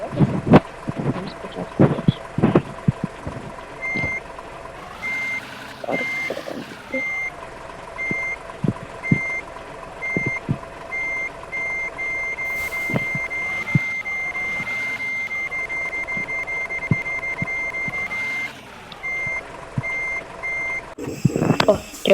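Repeated reversing beeps from a heavy truck backing into a parking spot in Truck Simulator Ultimate, steady evenly spaced tones over a low engine rumble, cutting out briefly before resuming.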